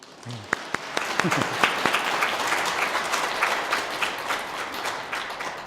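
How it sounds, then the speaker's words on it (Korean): Congregation at a Sunday church service applauding the choir, a dense steady wash of many hands clapping with a few sharper nearby claps, plus a brief voice at the start. "박수."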